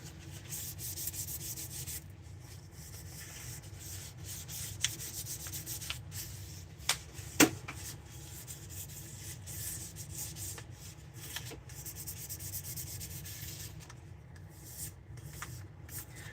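A wooden spoon is hand-sanded between finish coats, giving a soft, steady rubbing of sandpaper on wood that continues evenly and quietly throughout.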